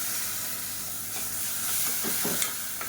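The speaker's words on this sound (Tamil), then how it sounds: "இப்போ மீடியம் சைஸாக ஒரு மூணு தக்காளி மிக்சியில் அடித்து வச்சுக்கிறத சேர்த்துக்கலாம்" Ground tomato puree, three medium tomatoes blended in a mixer, hitting hot oil in a pan for a Tamil kuzhambu, giving a steady close sizzle and hiss with a few soft stirring scrapes near the end.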